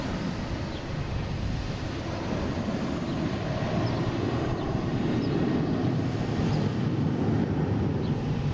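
A Boeing 737 airliner on flight 1625 at Boston Logan Airport produces a sustained, low, rushing jet roar that swells gently and stays steady at a moderate distance, with no voices.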